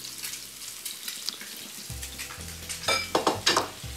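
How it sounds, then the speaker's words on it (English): Halibut sautés in a hot pan with a steady sizzle and frying crackle, close and clear, joined by intermittent scrapes and clinks of a utensil stirring against the pan. "So we're sauteing our halibut."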